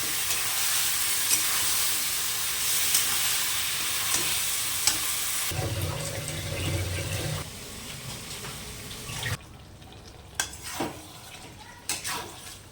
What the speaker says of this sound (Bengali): এবার মশলা দিয়ে আলুটাকে ভালো করে আমি কষাবো